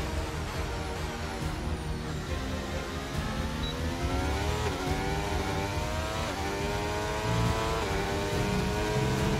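Formula 1 race car lapping the Hungarian Grand Prix circuit in a racing game during qualifying, a loud continuous high-revving engine whine with repeated rising and falling gear sweeps and no talk.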